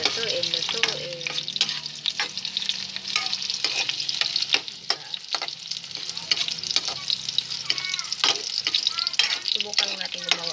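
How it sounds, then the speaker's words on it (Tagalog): Chopped hotdog and garlic sauté in a pan with a steady, busy sizzle and frequent clinks and scrapes of stirring, close and continuous, with faint talking in the background. "Luto na yung hotdog tsaka yung bawang nagisa na"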